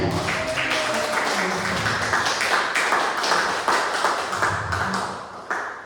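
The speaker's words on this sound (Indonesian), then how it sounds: "Mungkin sebelumnya biar semangat bisa tepuk tangan dulu boleh?" An audience claps hands in a hall during an Indonesian school counseling training event, a loud, dense ripple of many hands that swells and holds before tapering off near the end.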